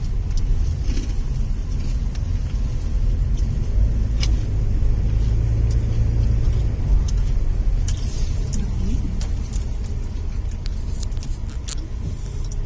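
A car drives toward a valley parking lot at Lembah Panyaweuyan in Majalengka, heard from inside as a loud, steady low engine and road rumble with occasional small rattles and clicks.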